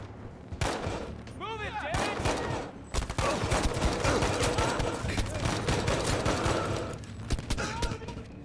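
Rifle fire in Battlefield V cracks out in rapid, repeated shots, dense and loud against a busy battlefield din, with someone talking over parts of it.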